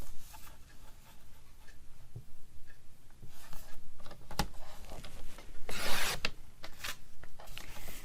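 Paper is cut for a Christmas ring-bound journal, heard as close, rasping cuts and rubbing strokes in uneven bursts, with one louder swipe near the end.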